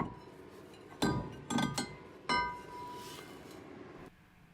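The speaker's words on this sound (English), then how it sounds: "give this disc from this side few hits like in X pattern, and it will come easy" Metal hits on the rear brake disc of a Mitsubishi ASX 1.8 L diesel, struck to free it from the hub: three sharp clanging impacts, the first two close together, then a third, each ringing briefly over a steady background hum.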